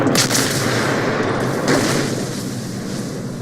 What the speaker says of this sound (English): you can't fire all three guns at once